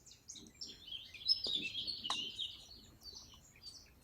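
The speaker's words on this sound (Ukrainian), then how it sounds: "дзвенять пташині радісні пісні." Small birds chirp and trill in early spring, a few bright calls overlapping softly against a quiet outdoor background.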